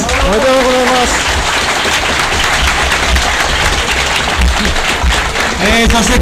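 Loud, continuous applause fills a hall after the final of an all-Japan manufacturers' spinning top battle, sustained for several seconds with a few voices breaking through at the start and end.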